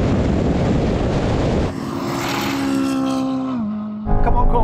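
A C8 Corvette and a Ferrari 458 Speciale drag race; a dense engine roar gives way to a sustained, steadily climbing engine whine that drops as a gear changes, then another loud burst, all close by.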